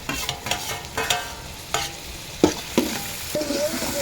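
Tomatoes and chillies sautéing in a pan for Maggi noodles, a soft steady sizzle broken by several sharp clatters of a spoon stirring against the pan, with no voices.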